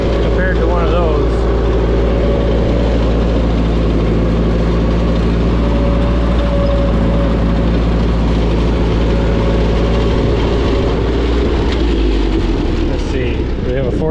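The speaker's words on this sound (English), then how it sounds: "These are a nice driving little tractor compared to one of those." A 1951 Ford 8N tractor engine runs loud and steady while the little tractor is driven, a constant low rumble with a faint whine on top that holds for the whole stretch and drops off near the end.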